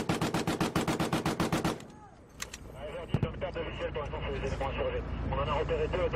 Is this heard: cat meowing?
no